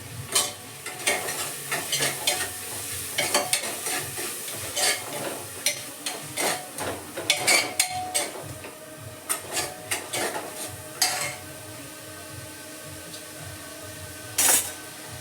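Spiced rice with salt and sesame seeds roasting in a pan, a gritty sizzle broken by rapid irregular scraping and clattering stirs of a spoon, loud and close, without talk.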